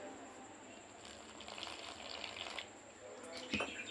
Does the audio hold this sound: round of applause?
no